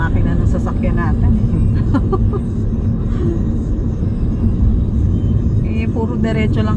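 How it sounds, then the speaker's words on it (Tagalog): A car engine strains loudly climbing a steep, curving uphill road in San Mateo, Rizal, a constant heavy rumble with voices talking over it. "Bumibirit na yung makina ng sasakyan natin."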